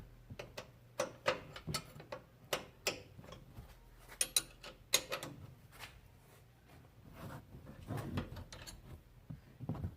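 Metal ratcheting clicks and clanks come in irregular bursts as a wrench works the bolts of a Rough Country leveling kit on a Chevrolet Colorado ZR2, close up beside the fender, with no talking.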